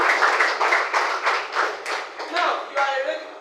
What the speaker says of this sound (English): Please clap for him. Clap for him.